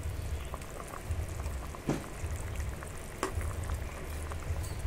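Fish pieces go into a thin fish curry simmering with nigella seeds and green chillies, giving a steady low bubbling and sizzle with a couple of brief splashy spikes as the pieces drop in.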